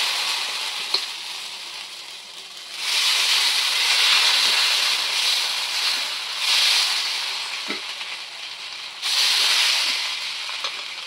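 Corn dosa batter hitting a hot griddle gives a steady broadband sizzle that swells in loud waves and eases between them, with faint crackles and no voices, lasting over ten seconds.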